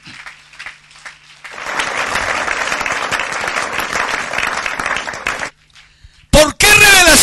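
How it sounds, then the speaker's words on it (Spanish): A church congregation breaks into loud, sustained applause for several seconds, then it fades and a voice speaks briefly near the end. "Denle un aplauso al Señor Jesucristo esta mañana"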